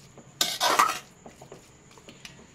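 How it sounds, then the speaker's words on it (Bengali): A spoon scrapes and clanks against a pan while banana flower ghonto with chickpeas and bori is stirred, one short burst of clattering followed by faint, sparse taps, close and otherwise quiet. "হালকা নাড়াচাড়া করে নিচ্ছি ভালোভাবে।"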